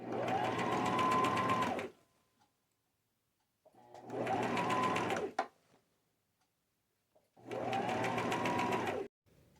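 A sewing machine zigzag-stitches a ribbon hem on a garment. Three loud, close, steady runs of about two seconds each are separated by quiet pauses.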